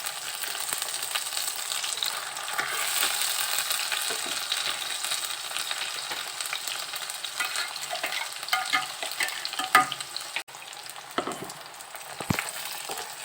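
Chicken masala sizzling and frying in a pan while a spoon stirs through the spices for doi chicken kosha, a steady close crackle with scraping strokes throughout and no one talking.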